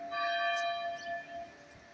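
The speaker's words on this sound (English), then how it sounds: "they started the bells for me too." Church bells ringing in Rouen, a sustained cluster of bright, overlapping tones that swell and hang in the air at moderate distance, with no talk over them.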